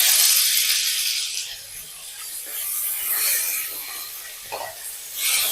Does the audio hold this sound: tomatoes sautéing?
yes